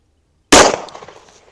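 A single sharp handgun shot from a concealed carry pistol fired into ballistic gel, a sudden loud crack after a moment of silence that rings out and decays quickly.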